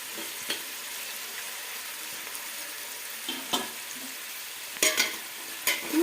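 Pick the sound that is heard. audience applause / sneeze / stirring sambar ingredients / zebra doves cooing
stirring sambar ingredients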